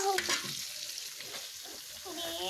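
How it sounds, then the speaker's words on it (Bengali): Fish fries in a pan in a home kitchen with a soft, continuous sizzle and a few stirring scrapes, quiet and close, while faint speech sits in the background. "আমার মাছ ভাজি প্রায় হয়েই গেছে"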